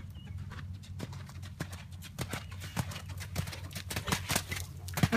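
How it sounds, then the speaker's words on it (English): Horse hooves clip-clopping at a steady canter during a riding lesson in March at Meadowlake, the rhythmic beats moderately close with a low rumble and no talk. "Good, one smooth canter."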